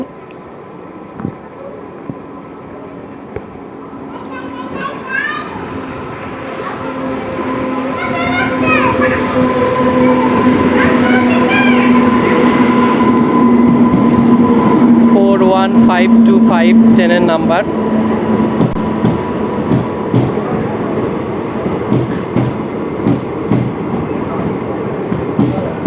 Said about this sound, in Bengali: আস্তে আস্তে ট্রেনটি প্ল্যাটফর্ম একে ঢুকছে